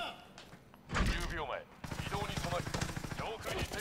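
Gunfire in Call of Duty: Modern Warfare, bursts of automatic weapon shots with a heavy thump, rapid repeated reports, mixed with game sounds and a player talking.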